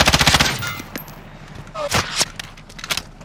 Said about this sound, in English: Shots from over there.